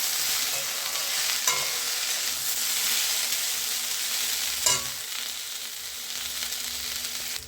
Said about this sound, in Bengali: দিয়ে কিছুক্ষণ আমি নেড়ে চেড়ে ভেজে নিচ্ছি